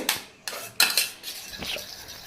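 A spoon stirs a milk mixture in a bowl for a homemade sweet, with sharp metallic clinks and scrapes in a few quick strokes, then softer swirling.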